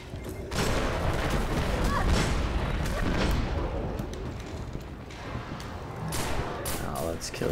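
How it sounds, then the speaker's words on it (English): Gunfire rattles in the video game Destiny, dense bursts of shots and heavy booms crowding the whole stretch, with a voice talking over the combat. "I know I'm being shot at."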